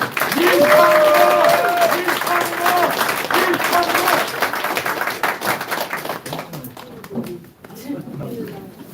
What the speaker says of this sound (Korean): 오늘의 주인공 이창근 당협위원장님을 다시 한번 힘찬 박수로 맞아주십시오